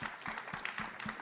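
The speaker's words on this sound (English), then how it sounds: "a round of applause for this panel" An audience applauds a panel at the A MAZE. Berlin 2025 festival: a quiet, steady patter of many hands clapping, heard from a distance, with no voices.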